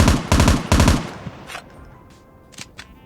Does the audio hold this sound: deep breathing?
no